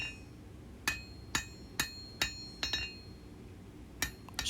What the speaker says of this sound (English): One little hump right there I need to knock back into the blade